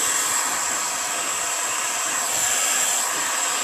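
A heat gun blows steadily on the plastic rear bumper of a 2004 Mini Cooper S, a constant close airy roar with a high whine and no break.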